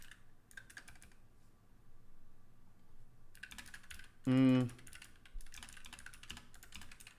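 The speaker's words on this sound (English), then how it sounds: "out of all the keyboards that I could buy, right? I don't know why, but I chose a clicky one." Rapid clicking keystrokes from a clicky blue-switch mechanical keyboard rattle along close by in bursts, broken by a short vocal exclamation.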